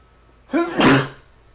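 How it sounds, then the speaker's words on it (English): A single loud sneeze up close, a brief sharp intake followed by an explosive burst, then quiet. "I'm going to sneeze."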